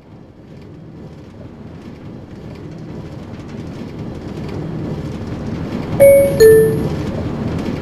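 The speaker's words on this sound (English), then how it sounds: "The train at platform A is now departing." An automatic subway train in Minecraft rumbles steadily as it pulls away from the platform, growing slowly louder, with two short bright chime tones near the end.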